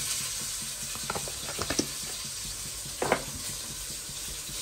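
Red beans simmer in a pot, and a spoon stirs them with soft scraping taps over a steady, bubbling hiss.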